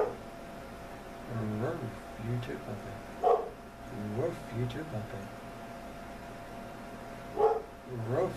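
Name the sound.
dog barking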